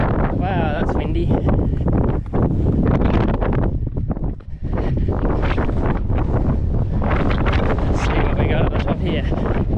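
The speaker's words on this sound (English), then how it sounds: "Wow, that's windy." Strong, gusty wind on an exposed alpine ridge of Isthmus Peak in New Zealand, roaring and buffeting the microphone almost nonstop, with a brief lull midway, loud and close.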